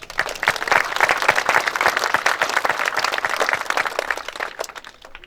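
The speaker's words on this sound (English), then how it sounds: "please hold your applause until the end" An audience at a building dedication ceremony claps loudly and steadily for about five seconds, dense applause that thins out and fades at the end.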